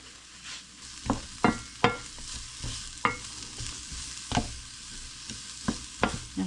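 Onion and fresh garlic sweat in a pan with a soft continuous sizzle, while a utensil stirs and scrapes at irregular intervals, making a series of sharp, close clatters with no voices.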